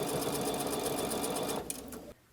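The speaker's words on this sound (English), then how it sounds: "we're going to start sewing once again from the center going out" Sewing machine stitching quilt seams runs in a fast, even whirring rattle close up, steady for about two seconds before slowing and stopping.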